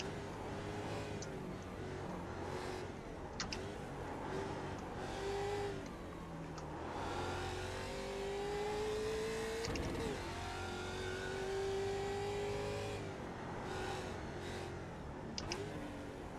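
A production race car engine at Bathurst in the iRacing simulator, rising and falling through several revving pulls and gear changes, steady and fairly quiet, with no talk.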